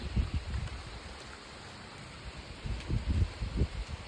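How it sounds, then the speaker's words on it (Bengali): Heavy rain pours in a steady broadband wash, with low rumbling thumps rising and falling over it. "এই দেখো কত জোরে বৃষ্টি পড়ছে"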